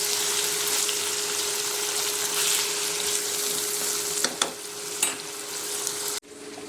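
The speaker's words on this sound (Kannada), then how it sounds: "ಸ್ವಲ್ಪ ಎಣ್ಣೆಲಿ ಫ್ರೈ ಆಗಲಿ." Mango curry masala frying in a little oil, a steady hiss of sizzling with a constant hum, a few spoon scrapes, then an abrupt drop as the heat or sound cuts off.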